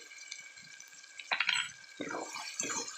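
Water poured into a pan of spice mixture for a chicken curry, soft splashing and gurgling bursts close by, with light clinks of utensils in between.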